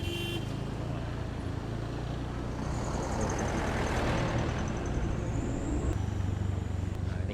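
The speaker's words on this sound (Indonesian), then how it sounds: "Tuh, wah, tuh ada truk." Truck rumbling along a narrow mountain road, a steady heavy engine drone with a low hum and broad road noise that swells slightly as it passes, heard continuously from inside a moving vehicle.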